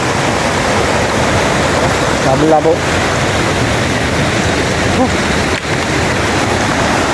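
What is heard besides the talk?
rushing flood water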